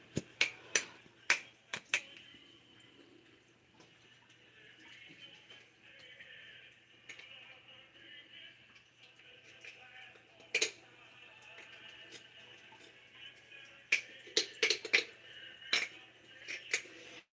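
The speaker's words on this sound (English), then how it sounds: "We're going to scrape us a little bit of brown sugar out of here." A spoon scrapes brown sugar from a container, with sharp metallic clinks and taps in clusters at the start and near the end and a quiet stretch between, close and fairly soft.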